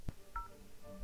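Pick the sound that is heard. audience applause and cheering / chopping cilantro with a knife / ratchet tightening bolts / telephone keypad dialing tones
telephone keypad dialing tones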